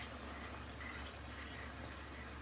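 A splash of cornstarch slurry poured into a hot, boiling wok of chicken and vegetables, heard as a steady, faint hiss and bubbling sizzle throughout.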